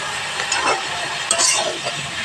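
Spices being stirred in a frying pan with salt, turmeric, green chilli and chilli powder for a winter-vegetable dried-fish dish: a steady sizzle with soft scraping strokes and an occasional light clink, close up, no talking.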